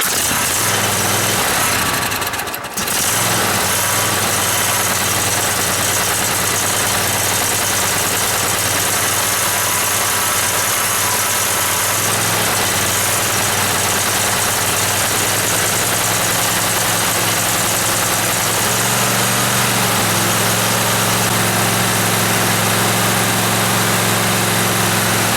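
A cold Cub Cadet barn-find lawn tractor engine with freshly adjusted valves cranks briefly, catches on choke and settles into a loud, steady idle with a low rumbling drone that continues unbroken.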